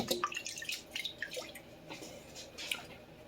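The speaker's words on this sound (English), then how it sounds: "So let's rinse this off so we can see it a little bit." Running water rinses a chef knife at a kitchen sink after sharpening, giving faint, uneven splashing and dripping with small spatters throughout.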